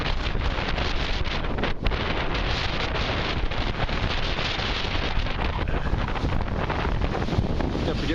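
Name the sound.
strong hurricane wind blowing over waterway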